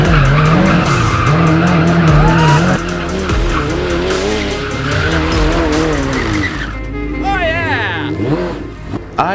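Loud, close tire squeal rises and falls as a Smart car fitted with a Hayabusa motorcycle engine drifts, with the high engine revving in bursts and voices talking over it.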